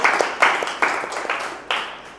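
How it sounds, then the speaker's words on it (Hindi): A maths class applauds a student named Prince, with short bursts of clapping from a small group, bright and near, swelling and easing over a couple of seconds. "जोरदार तालियां प्रिंस के लिए"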